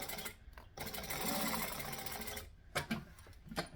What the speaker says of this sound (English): I'm going to go up to my my decorative stitch length, and I'm going to top stitch.